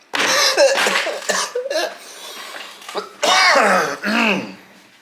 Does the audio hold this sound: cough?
yes